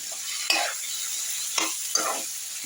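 Chicken being stir-fried in oil for a kosha curry with orange, dates and yoghurt, a steady close sizzle broken by three sharp scrapes of the spatula against the pan, no voices.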